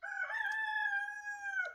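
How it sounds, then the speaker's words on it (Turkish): A young rooster crows once, a single sustained cock-a-doodle-doo lasting nearly two seconds, close and clear with a strained, adolescent tone and no other sounds around it. "Bu da ergen horoz ötmesi."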